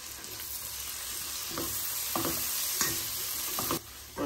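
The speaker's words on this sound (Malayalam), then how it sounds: "ഇനി അതിലേക്ക് നമ്മുടെ തക്കാളി അരിഞ്ഞ് വെച്ചിടണം" Chopped tomatoes frying in a pan with turmeric, a continuous close sizzle broken by several scraping stirs of the spatula, fairly loud and without talk.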